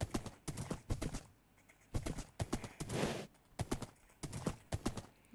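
Donkeys in the video game Minecraft PE: a steady series of close hoof clip-clops in bursts over several seconds, with a brief breathy bray in the middle and no talk.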